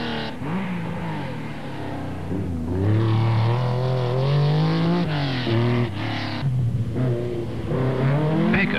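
A Porsche rally car at the 1983 Belgian rally, its engine loud and close, revving and rising through gears with a throaty rasp that swells and dips over about nine seconds.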